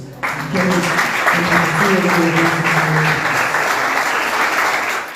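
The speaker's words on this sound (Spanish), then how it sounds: "Dale un aplauso" A church congregation breaks into loud, dense applause that holds steady for several seconds over sustained keyboard or organ chords, then tapers at the end.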